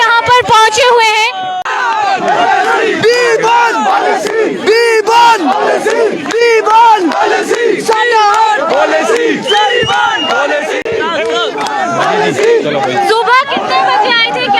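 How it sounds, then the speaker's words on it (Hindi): A large crowd of protesting outsourced workers and COVID warriors gathered at Zorawar Stadium in Dharamshala chants and shouts loudly and continuously, a dense, close roar of many voices throughout. "ये भीड़ आउटसोर्स कर्मचारियों की भीड़ है"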